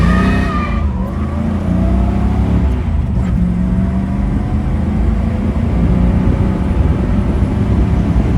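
A stock 1966 Ford Mustang convertible with a 289 V8 and three-speed manual drives along, a steady, loud engine drone with road and wind noise throughout and a brief gear-change dip near the start.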